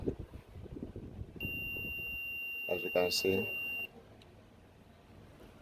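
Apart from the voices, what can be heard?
multimeter continuity test beep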